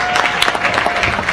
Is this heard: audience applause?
yes